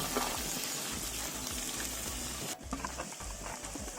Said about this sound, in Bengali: একটু লাল লালি করে ভেজে নেব মশলাগুলোকে